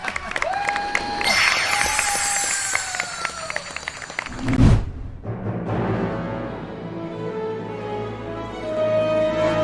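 Crowd at the KH20 in-person celebration cheering and shouting, with children's voices and clapping under music, loud and busy, broken by a sudden low thump midway before the noise settles into a quieter background hum.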